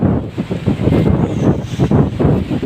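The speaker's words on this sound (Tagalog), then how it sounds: "malakas pa rin ang alon ngayon no kita nyo naman malakas yung hangin" Strong wind buffets the microphone over the steady wash of ocean waves, loud and continuous with no voices.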